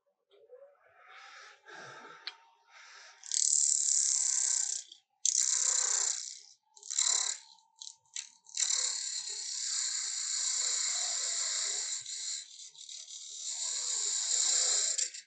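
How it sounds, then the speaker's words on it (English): Spindle gouge cutting into a spinning wooden box blank on a lathe, removing a textured spiral surface; loud hissing cuts in bursts with short pauses, then a long steady cut, close and alone. "let me grab my spindle gouge here and take all that off."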